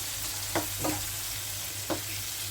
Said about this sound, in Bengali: আর আগে থেকে ধুয়ে রাখা চিংড়ি মাছগুলো দিয়ে দিলাম ভাজার জন্য।